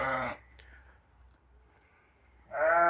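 Sheep with lambs in a pen, heard as two loud, close bleats, one at the start and one at the end, with a quiet gap between them.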